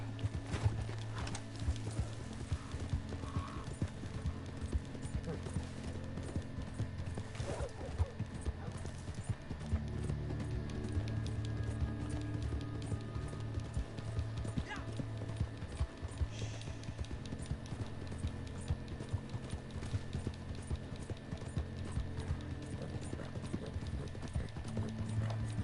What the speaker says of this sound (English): I meant to climb on my horse.